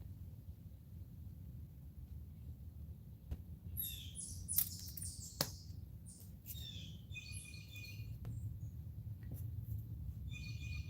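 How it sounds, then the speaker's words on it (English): Several birds tweeting outdoors, with bursts of high chirps and short trills scattered over a low background rumble. The calls are moderately distant and faint, with a few sharp clicks in between. "Those birds, not those ones, the ones before that were tweeting"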